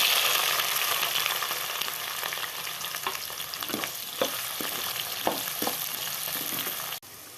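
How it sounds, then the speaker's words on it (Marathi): Capsicum (bell pepper) frying in a pan, with a continuous loud sizzle close by and several distinct scraping stirs clustered in the middle, no voices. "तर आपण आता सिमला मिरची पण फ्राय करूया"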